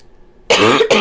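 A short burst of coughing, two quick harsh coughs close to the microphone after a moment of near silence.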